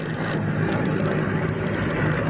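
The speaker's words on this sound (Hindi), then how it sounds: "तस्वीरों में आप देख पा रहे हैं Mi-8 हेलीकॉप्टर्स बेलारूस में 16 Mi-8 हेलीकॉप्टर्स भेजे गए हैं।" Mi-8 military helicopters produce a loud, steady engine and rotor roar with a faint rhythmic pulsing, continuous and close, with no voices.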